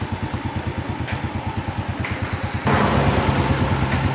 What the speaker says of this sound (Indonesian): mesin nggak mau mati ya teman-teman ya